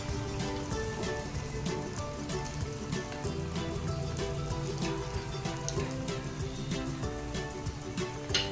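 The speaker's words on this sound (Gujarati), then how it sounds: "કોફતા ગોલ્ડન બ્રાઉન થાય ત્યાં સુધી આપણે તળીશું" Potato koftas frying in hot oil until golden brown, an even, dense crackle of bubbling oil with frequent sharp pops, close and unbroken throughout.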